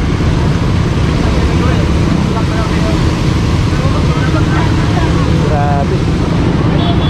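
Strong floodwater left by a typhoon in Sta. Rosa, Laguna, overflows a bridge with a loud, continuous rushing roar, while faint voices come through briefly under the torrent.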